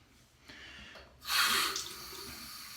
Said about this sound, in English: Sorry about the water.